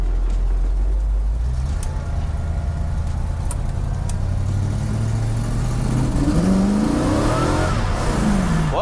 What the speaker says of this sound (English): We're gonna turn right here and I'll accelerate so you can see how it sounds.